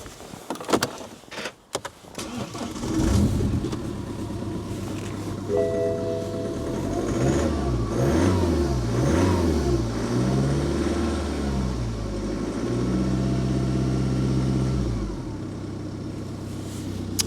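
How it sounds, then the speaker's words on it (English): A car engine is started and revved up close by during an OBD2 scanner test: a few clicks and a crank, then the engine catches and its revs rise and fall in smooth sweeps before steadying. "We've got a key, let's fire the car up."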